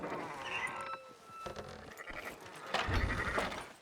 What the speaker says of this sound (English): Fine sheep.